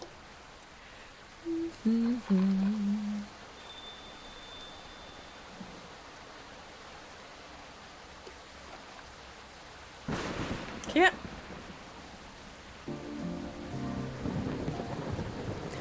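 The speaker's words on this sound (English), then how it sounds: "I'd love a thunderstorm over here right now" Rain and rumbling thunder in the Coffee Talk video game, a soft steady rain bed with a louder thunder swell midway and rising again near the end, mixed with a voice briefly and faint game music chimes.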